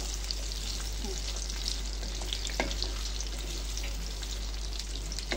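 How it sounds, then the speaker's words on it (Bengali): Boiled potatoes frying in hot oil give a steady, moderate sizzle with light crackles and small pops throughout, heard alone without talk. "আলুগুলোকে ভালো করে ভেজে নেব।"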